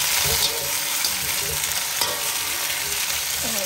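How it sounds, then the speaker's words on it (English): Washed arvi (taro root) stir-fried in about a quarter cup of oil in a pan, a steady close sizzle with scraping stirs throughout, alone and at even loudness. "I will just add the washed Arvi, as you can see, and I will just stir fry it."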